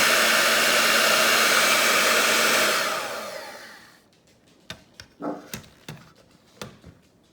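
An electric mixer whirs loudly and steadily while beating sweet potatoes, sugar and butter, then winds down and stops, followed by a few sharp knocks and taps as it is set aside.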